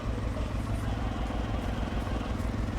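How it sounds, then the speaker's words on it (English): An engine runs steadily with a low, throbbing rumble and a rhythmic pulse, sounding close and continuous, like a motorcycle idling or ticking over. "I hear an engine as well"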